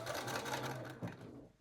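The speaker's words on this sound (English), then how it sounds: "to sew the two waistbands together" Sewing machine stitching two jeans waistbands together, a fast steady mechanical whir close up that stutters and slows briefly near the end.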